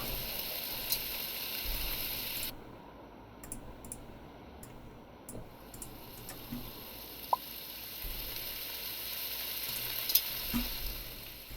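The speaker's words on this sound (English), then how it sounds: "Fry the steak for 60 seconds" Steak frying in a pan in the Cooking Simulator video game, a steady faint sizzle with scattered soft clicks over it.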